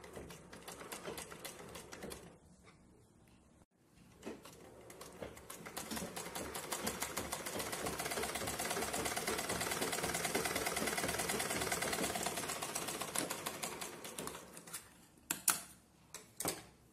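Domestic sewing machine stitching a puff sleeve on cloth, running in a steady rapid clatter for most of the span, pausing briefly near the start and ending with a few short bursts, close and fairly loud with no talk.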